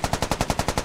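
Steady automatic gunfire in the military shooter Squad, about ten evenly spaced rounds in under a second, loud and close with no talk over it.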